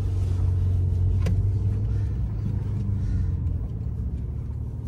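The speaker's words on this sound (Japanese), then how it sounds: "今カレラ T で少し走ってきているんですけれども" A 2018 Porsche 911 Carrera T (type 991.2) driving, heard from inside the cabin as a steady low engine and road rumble at cruising pace, with no obvious revving; close and continuous, no talking.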